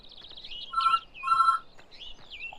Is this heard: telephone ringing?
yes